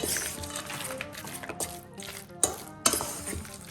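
A mixture with small dried currants is stirred in a pan, giving a steady close scraping and sloshing with a couple of sharper knocks against the pan near the end, with no talking.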